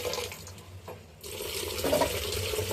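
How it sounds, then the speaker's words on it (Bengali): Cold water splashing and running over freshly made chhana cheese curds being rinsed in a sink, a steady wash of flowing water that dips briefly, then grows fuller and louder. "ঠান্ডা জল দিয়ে ভালো করে দিয়ে নেব, যেন টক ভাবটা চলে যায়"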